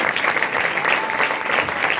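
A church congregation claps steadily through a sermon, the dense, even applause filling the whole stretch close by without pause.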